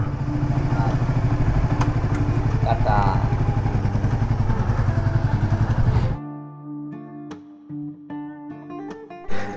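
An aging motorcycle, just back from repair, runs with a steady rhythmic engine chug for about six seconds, then cuts off, leaving scattered clatter and knocks.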